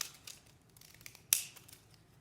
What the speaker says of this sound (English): I'm going to use my fancy little scissors to snip the